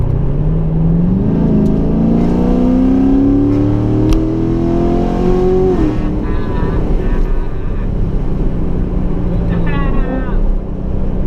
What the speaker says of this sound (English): Yo, this Mazda's ripping up next to me.